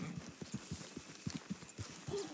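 Horse hooves clip-clopping at a steady walking pace in the video game Red Dead Redemption 2, a soft, even rhythm of close, moderately quiet hoofbeats with faint ambient background.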